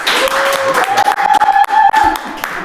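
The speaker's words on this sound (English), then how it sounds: "Okay, we can clap." Studio audience clapping during a Pro Auto Brokers podcast episode: a short burst of close, uneven applause with a voice sounding over it.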